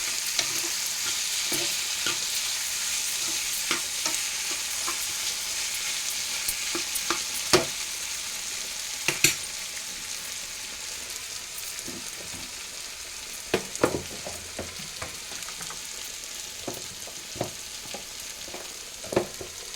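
Food frying in a pan after salt and chili powder are added, a steady close sizzle running throughout with occasional sharper clicks and scraping stirs, no voices.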